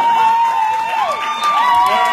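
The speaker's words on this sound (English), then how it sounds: "Can we get a round of applause for them?" Live audience at a Maryland/DC stand-up comedy show applauding and cheering for the comedian's family, a loud continuous crowd roar with whoops and a shrill whistle rising and falling throughout.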